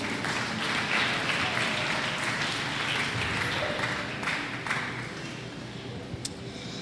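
A church congregation breaks into broad, sustained applause after a scripture reading, a dense wash of clapping that fills the space for several seconds before gradually thinning out.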